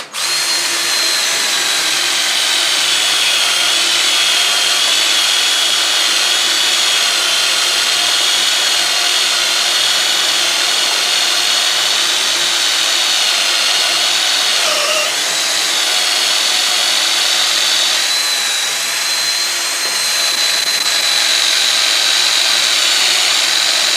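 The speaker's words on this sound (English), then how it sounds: "try to drill all the way through this piece of wood" A power drill bores steadily through a piece of wood for a mallet, a loud continuous whine with a brief dip midway, close and alone with no talk.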